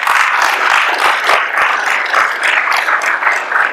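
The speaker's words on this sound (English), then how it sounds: "Let's give them a round of applause." At the close of a panel discussion during a memorial service for Jamal Khashoggi, the audience gives loud, close applause with sharp individual claps that carries on steadily without a break.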